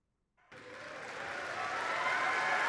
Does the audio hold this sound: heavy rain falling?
no